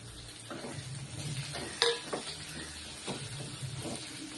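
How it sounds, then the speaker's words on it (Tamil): Green chilies sautéing in a pan for a tamarind chili curry, giving a steady close sizzle with a few scraping stirs and one sharp clink midway. "பச்சை மிளகாய் நல்ல கலர் மாறுற வரைக்கும் நல்லா வதக்கணும்"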